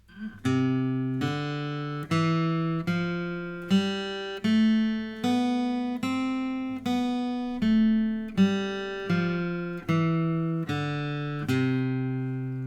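A guitar plays an evenly paced scale with alternate picking, one clearly picked note after another, each ringing briefly before the next, close and alone.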